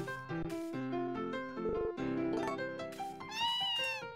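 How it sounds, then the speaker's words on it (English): Cat meowing in the video game Harvest Moon: A Wonderful Life, several tonal meows over a light game soundtrack, clear and close with no talk. "I'm showing you a cat!"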